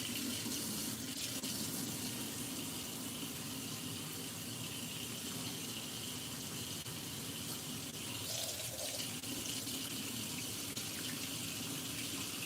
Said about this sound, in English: I'm just rinsing my hands off.